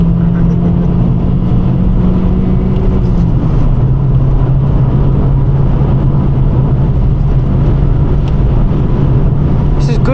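A Vauxhall Corsa engine drones loud and close from inside the moving car, holding a steady pitch that dips slightly early on, with talk over it.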